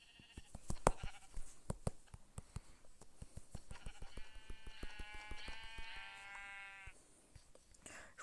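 Sheep bleat in a survival video game, a long wavering bleat rising over a steady run of crisp clicking footsteps, with a softer bleat near the start.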